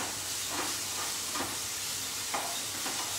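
Amchur powder going into a masala that is sizzling in a pan, a steady frying hiss with faint stirring scrapes, close by and unbroken, with nobody talking.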